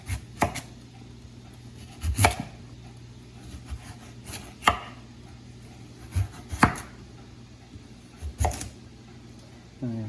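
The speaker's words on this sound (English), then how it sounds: "we're going to slice this into pieces about the size of what the carrots and the peas are going to be in the frozen veg mix" A knife slices a turnip into small pieces on a cutting board, producing sharp, separate chopping knocks spaced a second or two apart against a quiet background.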